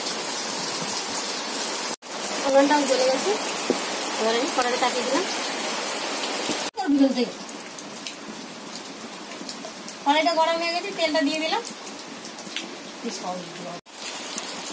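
Heavy rain falls outside in a steady, dense hiss that runs through the whole stretch, while a person talks over it during samosa cooking with occasional kitchen clatter.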